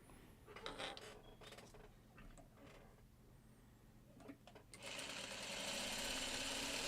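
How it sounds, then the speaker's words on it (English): A sewing machine stitches quilt block pieces, starting in short bursts and then running in one steady, continuous stretch, close and fairly quiet. "And then we'll sew this together."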